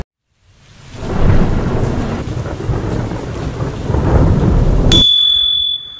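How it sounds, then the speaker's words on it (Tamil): Heavy rain pours in Goa as a dense, loud roar that holds steady for several seconds, then cuts off abruptly into a brief high ringing tone. "இது மழை வேறு பயங்கரமாக பெய்யுது."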